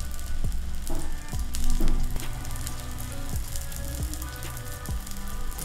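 Egg paniyaram batter made with country chicken eggs sizzles steadily in a pan, a continuous close frying crackle with occasional soft taps and no voices.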